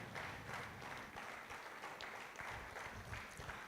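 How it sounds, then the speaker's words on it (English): An audience at an award dinner applauds a speaker walking up, a steady, fairly distant wash of many hands clapping that holds evenly throughout. "Please put your hands together for him as he comes up to speak to us tonight."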